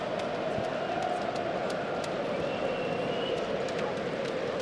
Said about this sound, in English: There are some Tottenham fans in the Allianz Arena, they're beginning to make themselves heard a little bit.